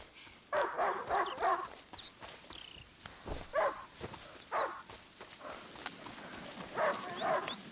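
A hunting dog barks in short bursts at moderate distance in A Plague Tale: Innocence, the barks spaced irregularly over a soft outdoor ambience with birdsong and a few footsteps.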